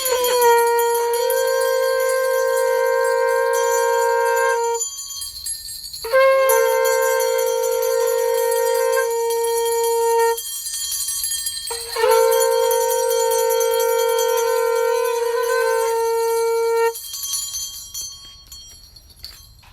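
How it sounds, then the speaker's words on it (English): Bells ring out in a meditation session, three long sustained tones each holding several seconds with bright overtones, separated by short pauses, loud and clear with no talking. "Conchs and bells."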